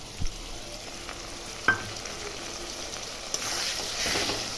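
A ginger, garlic and chilli spice paste fries with onions in a pan, a faint, soft sizzle with a couple of sharp utensil knocks and a brief louder hiss toward the end.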